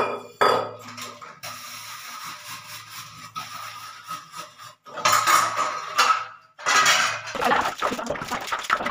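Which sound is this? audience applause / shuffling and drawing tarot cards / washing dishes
washing dishes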